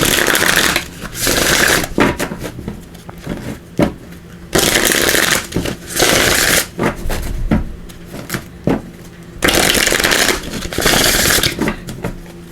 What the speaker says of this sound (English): We're also going to pull a card here from these Celebration of Love Oracle